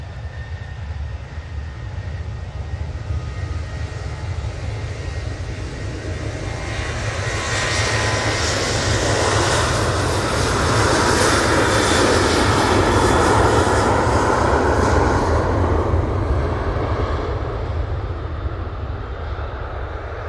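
A Ryanair jet airliner at Manchester Airport gives a steady engine roar that swells louder midway, then eases slightly, heard alone without talk.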